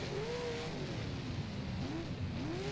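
A Big Block Modified race car engine in rFactor rises and falls in pitch as it accelerates on the Utica Rome oval. A steady, moderately loud drone plays with no talk over it.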